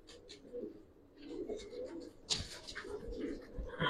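Young giribaz pigeons coo quietly nearby, low murmuring calls with a brief rustle or flutter midway and a bump at the end.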